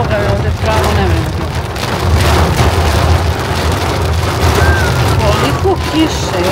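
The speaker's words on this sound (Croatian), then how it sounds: "Koliko kiše, šta je ovo čoveče? Brisači ne mogu da obrišu koliko." Torrential rain hammers a car during a storm, a loud continuous wash of drops over low road rumble while people talk over it.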